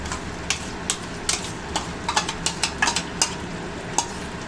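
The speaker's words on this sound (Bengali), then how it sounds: "দেখো মিশিয়ে নিচ্ছি। এই পজিশনে আমি বাদ বাকি দইটাও দিয়ে দেবো।" Chicken curry being stirred in a pan as yogurt is mixed in, with a steady run of light scraping clicks from a spoon against the metal over a low background hum.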